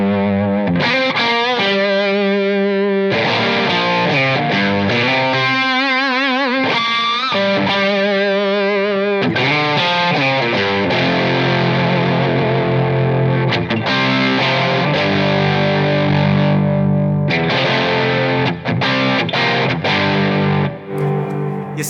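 Electric guitar through a Keeley Blues Driver overdrive pedal with the drive turned up, ringing chords and sustained notes with thick, gritty distortion, loud and continuous, alone without talk.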